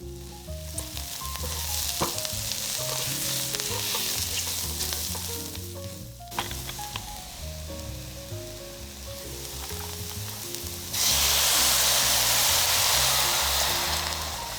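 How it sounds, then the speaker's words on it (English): Half and half with seasonings is whisked in a hot pan for a Louisiana fondue, giving continuous loud sizzling with repeated stirring scrapes that grow harsher and brighter near the end. "Add the half and half and all seasonings and whisk to incorporate."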